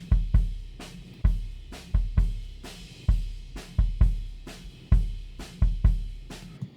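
Dry, unprocessed kick drum hits in an irregular pattern, each a boomy low thump with a natural ringing tail, played alone.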